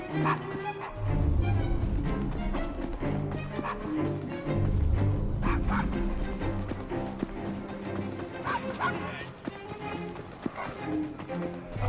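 Dog barking in the Assassin's Creed Syndicate video game, a few yips and whimpers amid busy game sounds and hoofbeats.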